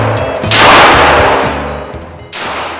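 Sharp gunshots from a Springfield Armory Echelon polymer 9mm pistol at a range, a close report followed by another burst of firing with metallic ringing, loud and without talk.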